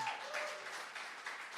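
An audience applauds at a live political discussion as Tom Perez leaves, a soft, steady patter of clapping heard from some distance, with faint voices mixed in.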